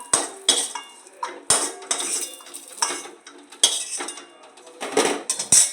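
Fried cashews and raisins go from a pan into a bowl with a run of sharp metal spoon clinks and scrapes against cookware, arriving in separate bursts.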